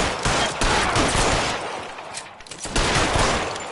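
Rapid bursts of gunfire in the video game L.A. Noire, a dense crackle of repeated shots with a brief lull midway before the firing picks up again, loud and without speech.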